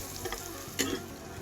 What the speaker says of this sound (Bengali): তো আমিও সেমভাবে কিন্তু পেঁয়াজটাকে ভেজে নিচ্ছি।